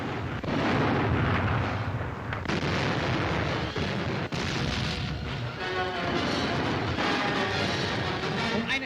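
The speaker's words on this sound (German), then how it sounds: "Werferbatterien beschießen den in die Stadt eingedrungenen Feind." German rocket-launcher batteries and artillery shelling enemy troops inside a town during 1944 WWII fighting, heard as a loud, unbroken rumble of overlapping blasts with sharp booms bursting through it the whole time.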